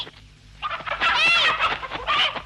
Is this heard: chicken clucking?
yes